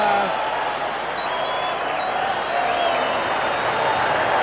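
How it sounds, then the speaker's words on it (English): Big rugby crowd cheering for Danie Gerber, a broad continuous roar with whistles filling the stadium, steady and loud throughout. "Listen to the crowd. They absolutely love him."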